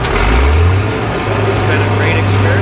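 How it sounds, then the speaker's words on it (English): A cement truck arriving at a work site in Panama, its heavy engine droning loud and close with a steady low rumble that rises slightly, voices talking over it. "here comes the cement truck"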